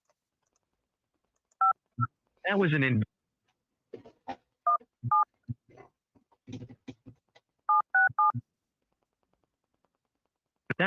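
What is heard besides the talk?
telephone keypad tones entering a PIN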